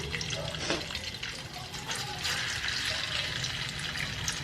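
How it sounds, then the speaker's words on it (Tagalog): Tofu (tokwa) dropped into hot cooking oil in a pan, giving a steady close frying hiss and crackle that holds for several seconds with no voices. "Pag mainit na po ang ating mantika, pwede na po natin ilagay ang ating tokwa."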